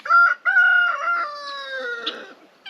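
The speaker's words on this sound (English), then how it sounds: "Oh, we've caught ourselves a cockerel." A loud, close rooster crows once, a drawn-out cock-a-doodle-doo that tapers off, with no one talking.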